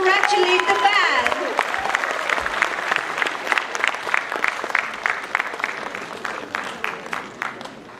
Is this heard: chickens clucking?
no